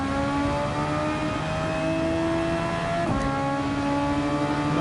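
A Formula 1 car in Gran Turismo 7 revs its engine loudly and steadily after a downshift, its pitch climbing in one smooth, continuous sweep with a brief shift blip near the end.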